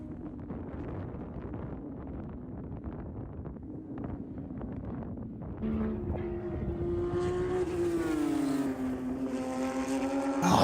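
Porsche 911 991.2 Cup race cars run on a track, an engine roar building as one car approaches and passes with a rising, sustained whine, heard amid wind noise.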